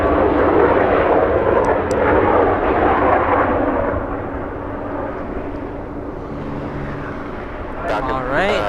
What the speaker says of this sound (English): Dassault Falcon